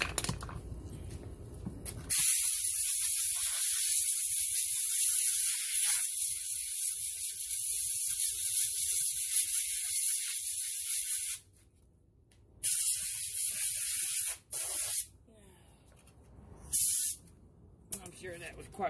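Compressed air blasts dirt off a small engine's breather: a loud, steady hissing rush lasting several seconds, then a few shorter bursts separated by brief gaps.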